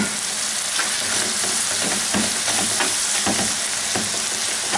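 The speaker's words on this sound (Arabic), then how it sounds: "وابتدي اسيبها تتشوح شويه بالشكل ده كده" Minced meat sizzles steadily in a hot pan, a dense continuous frying hiss broken by faint scrapes and stirring clicks, close and alone without any voices.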